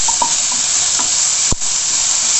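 Vegetables with tomatoes and salt being stirred and sautéed in a pan for kara kuzhambu, a steady close sizzle with a few soft spoon scrapes and one sharp knock near the end.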